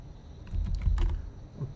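A few quick keystrokes tap on a computer keyboard, a short cluster of close, light clicks in a quiet room.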